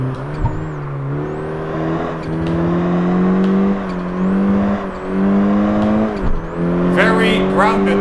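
A race car in the video game Project Gotham Racing 4 drones loudly with engine induction noise, holding a steady pitch that dips briefly with gear changes and lifts again.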